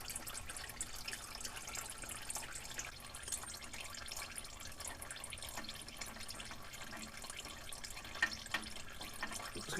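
Engine oil drains from a Mazda CX-5 oil pan into a drain pan, a faint, steady trickle and splatter of liquid with no talking.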